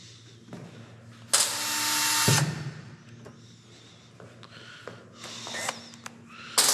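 A cordless drill with a low battery whirs in a short high-pitched burst, followed by a few brief quieter spurts and clicks.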